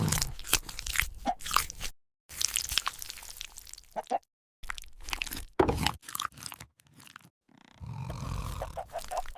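A cartoon lion crunches and chews its chicken meal in loud, bursty bites separated by brief silences, ending with a low growl-like rumble; no one talks.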